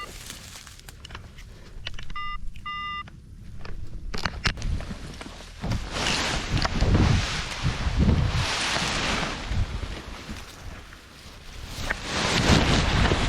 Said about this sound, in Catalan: aquí el vent ve sobre l'eix de la carretera, ja ho veus.